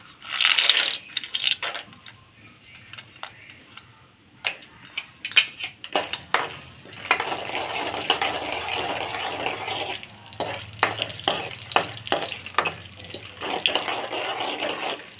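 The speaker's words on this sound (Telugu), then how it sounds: "ఇప్పుడు నూనె కాగిందండి. వేరుశనగ గుళ్ళు వేసుకుంటున్నాను." Peanuts dropped into hot oil for a Telugu spinach (palak) rice dish, crackling and hissing in a pan with a steady sizzle and scattered sharp pops, close and fairly loud, with no talk.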